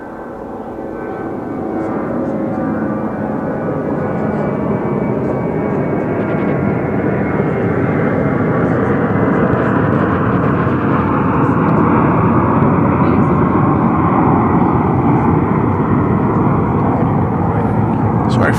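A plane comes in to land at DFW Airport, its engine roar steady and broad and swelling slowly louder as it draws nearer, a continuous rumble with no break.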